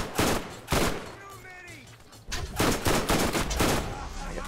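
Bursts of automatic turret fire from the Borderlands video game, loud rapid volleys in two clusters with a short lull between, a voice briefly speaking over the shooting.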